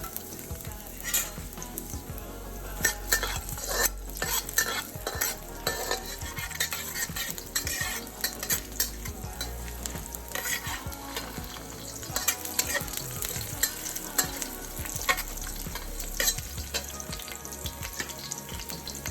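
Garlic frying in a pan for Korean black bean noodles, a steady close sizzle with repeated scraping and clinking of a utensil stirring against the metal throughout.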